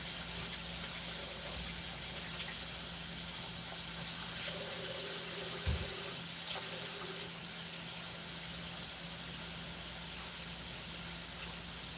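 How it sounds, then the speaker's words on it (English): Water from a kitchen sink tap runs steadily while someone washes their hands, making a continuous, even hiss at moderate volume with faint clinks now and then. "Let me wash my hands real quick."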